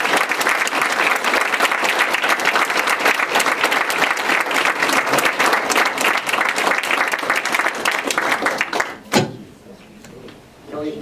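An audience at a Fourth District legislative forum applauds for two candidates, loud dense clapping that runs steadily for about nine seconds, then cuts off to a few faint sounds and quiet room tone.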